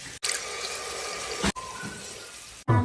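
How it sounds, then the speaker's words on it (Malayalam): Tamarind water being poured into a pressure cooker, a few steady splashing pours separated by short breaks, close and fairly loud. "പുളിവെള്ളം ഒഴിച്ചു കൊടുക്കാം."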